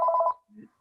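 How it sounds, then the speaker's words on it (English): A phone notification tone sounds during a community committee video call: a loud, steady, pulsing electronic beep lasting about a third of a second, then a short, fainter low tone. "Sorry about that phone sound."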